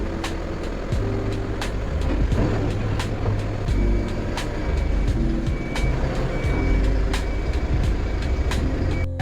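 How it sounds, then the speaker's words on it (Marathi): A truck reverses with a steady series of loud, regularly spaced reversing beeps over continuous engine rumble and background noise, heard alone without talk. "चला आपण आता मित्रांनो गाडी बिडी बाहेर काढून घेऊ"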